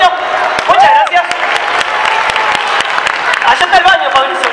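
Applause from a circus audience at a show, dense clapping under a loud amplified voice talking over it, with a few whoops rising through the crowd.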